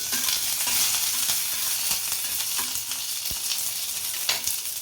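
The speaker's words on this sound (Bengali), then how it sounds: "একটু সরষা, একটু নাড়াচাড়া করি" Mustard seeds and curry leaves fry in hot oil for tomato chutney, giving a loud, continuous close sizzle broken by scraping stir strokes of a spatula in the pan.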